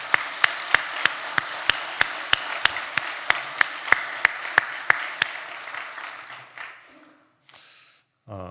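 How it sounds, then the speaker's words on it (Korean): A church congregation claps in a slow, steady unison rhythm, about two claps per second, loud and roomy in the sanctuary. The beat stops partway through, leaving a quiet room tail and a brief faint sound near the end. "우리 교회에 향하신 하나님의 놀라운 뜻과 또 영광에 감사의 박수를 올려드리겠습니다."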